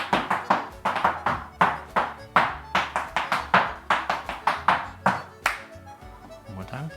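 Sharp, evenly spaced claps keeping time for an Irish dance step, about a dozen crisp hits in a steady brisk rhythm, close and fairly loud, then tapering off into quiet at the end.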